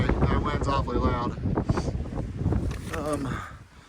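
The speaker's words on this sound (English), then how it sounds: "That wind's awfully loud." Strong wind roars and buffets the microphone on the summit of Carter Dome, a mountain, with someone talking close over the continuous rushing noise.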